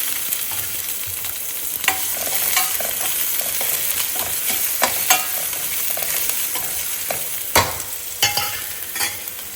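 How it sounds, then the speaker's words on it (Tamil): Small shallots fry in coconut oil with a continuous close sizzle, punctuated by sharp scraping and tapping of a spoon stirring against the pan, no voices. "சின்ன வெங்காயத்தை போட்டுடலாம்."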